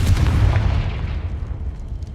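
A Confringo spell blast in Hogwarts Legacy goes off as a single deep, close boom, then rumbles away and fades.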